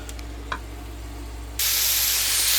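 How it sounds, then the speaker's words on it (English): Beef browning in a hot pan for canned beef stew: a quiet room tone suddenly gives way to a loud, steady sizzling hiss that holds to the end. "As the pan gets hot, I'm going to brown some of this up."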